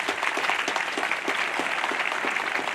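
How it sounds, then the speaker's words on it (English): A graduating class of nuclear power school students applauding their NNPTC staff, a dense crowd clapping at moderate level, steady for a few seconds from a short distance, with no speech over it. "I'd like all students to join me in a round of applause for the incredible team here at NNPTC"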